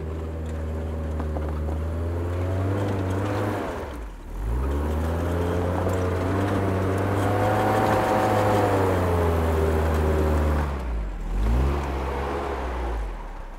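A Diora 6x6 off-road vehicle climbs a steep, stony uphill, its engine droning and revving with rising and falling pitch, easing off briefly twice before pulling hard again, heard fairly close.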